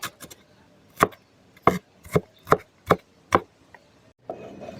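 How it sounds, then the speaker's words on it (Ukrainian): A knife chops onion on a cutting board, with seven crisp, evenly spaced thuds about half a second apart, close and clear, followed by a softer scrape. "Перерубали всю цибульку."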